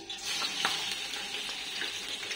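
Chicken pieces hit hot oil for chowmein, producing a continuous, close sizzle with crackling and stirring noises.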